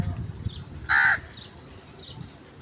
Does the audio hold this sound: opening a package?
no